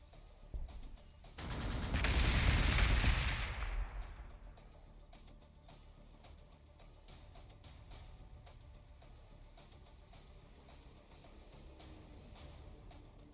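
Gunfire from Adeptus Mechanicus units shooting an Ork city in Warhammer 40,000: Gladius, a dense roaring burst of shots lasting about two seconds near the start, then fading into a low, quiet background hum.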